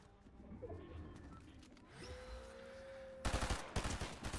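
Rapid bursts of gunfire from a shooter video game crackle loudly in the last second, after quieter game ambience and a rising whine.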